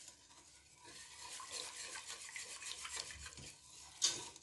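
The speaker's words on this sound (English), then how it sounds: "I'm just mixing it on a low heat just until it's nice and smooth and the butter is melted." A spoon stirs chocolate sauce with melting butter in a pot over low heat, making soft close scraping and swishing sounds with one brief clink near the end.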